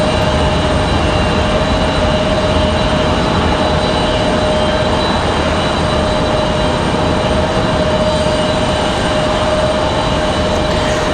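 A Breeze Airways airliner at Raleigh Durham airport gives off a loud, constant roar with a steady whine, heard from nearby without a break.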